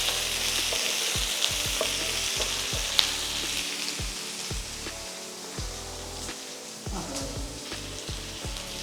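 Chopped green chillies and curry leaves sizzle steadily in a hot pan for a potato curry, with repeated stirring scrapes and clinks over a continuous close frying hiss.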